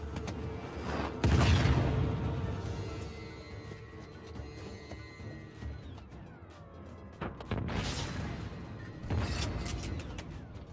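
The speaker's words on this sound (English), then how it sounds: "Sometimes you just gotta go closer with a rocket launcher to the face." A rocket launcher explodes in a video game with heavy booming blasts. A big hit comes early, and further loud bursts follow later amid mechanical game sounds and rumble.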